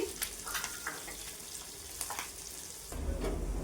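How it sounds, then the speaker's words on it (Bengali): Tengra fish fry in hot oil with a continuous crackling sizzle, broken by sharp pops and utensil clicks. The frying grows louder and fuller toward the end. "একই তেলে সব মাছ ভেজে নিব"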